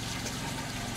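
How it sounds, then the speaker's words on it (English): Water gurgles and bubbles steadily inside a DWC hydroponic grow bed bucket, a continuous soft churning with faint trickling, close by, no voices. "You can hear that thing gurgling in there."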